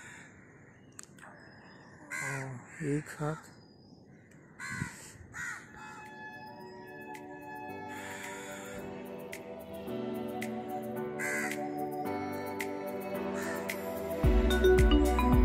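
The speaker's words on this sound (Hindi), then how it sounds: "एक जगह बैठे हुए काफ़ी सारे कौए मुझे देखे हैं।" A crowd of crows caws at Colva beach in Goa, with loud, repeated harsh calls near the start fading into background noise and music, and brief speech partway through.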